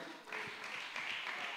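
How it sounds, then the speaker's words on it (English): A church congregation applauds during a service, a steady wash of clapping that fills the space and sustains at an even level throughout, with faint voices mixed underneath. "Please clap for them."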